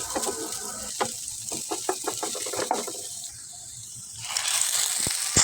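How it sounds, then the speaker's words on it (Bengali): Chopped onions fry in a pan for a Bangladeshi shing fish bhuna, giving a steady close sizzle with scattered stirring clicks and scrapes. The sizzle swells louder near the end. "একটা প্যানে নেড়ে চেড়ে পেঁয়াজ কুচিগুলি একটু ভেজে নিচ্ছি"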